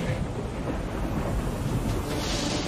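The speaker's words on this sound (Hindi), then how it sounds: "आंधी तूफान फिर से।" A thunderstorm with strong wind during a Hindi drama scene, heard as a steady, loud, broadband roar of wind and storm rumble lasting throughout, with no voices.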